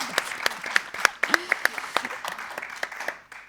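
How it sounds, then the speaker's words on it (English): Scattered applause from a small audience for the panelists at a water security education panel, individual claps distinct and irregular, fading toward the end with faint voices underneath. "Can we just give one round of applause for the panelists?"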